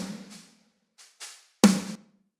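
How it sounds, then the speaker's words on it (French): An aggressive snare drum sample with some room ambience: a few sharp, cracking hits, softer ones first, then one loud punchy strike with a short, roomy tail. Heard alone, with no talking. "un sample de caisse claire qui tape bien, qui est quand même relativement agressif, avec un peu de room aussi"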